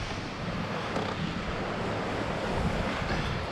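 River water beside a rail trail makes a steady, broad rushing wash that holds at an even level throughout, with some wind buffeting mixed in and no voices.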